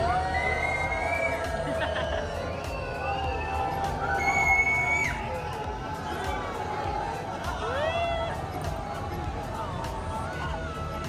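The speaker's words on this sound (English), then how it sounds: "you'd hear them cheer every time we crossed the new bridge" A cruise group on a boat passing under a Paris bridge, with crowd chatter and cheering voices spread throughout, a lively murmur with occasional raised shouts over the engine noise.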